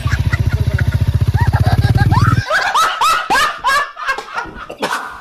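A motorcycle engine runs close by with a steady, pulsing low throb for about two seconds, then cuts off. Voices and laughter follow.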